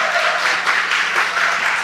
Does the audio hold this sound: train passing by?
no